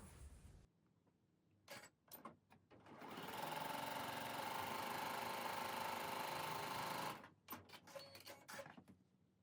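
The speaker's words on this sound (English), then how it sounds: "So we will sew 1/4 of an inch on either side of the center diagonal line." A sewing machine stitches quarter-inch seams on quilt half-square triangles. Its steady, close mechanical whir runs for about four seconds, framed by soft clicks and fabric handling before and after.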